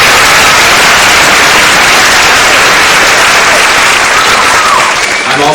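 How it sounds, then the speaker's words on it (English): An audience at the 2003 Miss Strassenfest pageant breaks into loud, sustained applause, a dense wash of clapping that holds steady for several seconds. "Let's give them a big round of applause."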